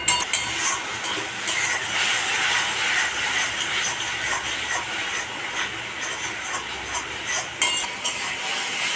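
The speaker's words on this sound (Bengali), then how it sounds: "পেঁয়াজটাকে আমি ভালো করে ভেজে নেব" Onion paste frying in a pan for a prawn malai curry, a continuous bright hiss close up with soft scraping from stirring throughout.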